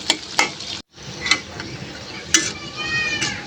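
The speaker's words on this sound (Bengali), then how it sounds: "পেঁয়াজটা নেড়ে চেড়ে কিছুক্ষণ ভেজে নিব" Chopped onion fries in a pan while a spoon stirs it, making a close sizzle. Sharp scraping strokes of the utensil come in several bursts, with a brief silent gap early on.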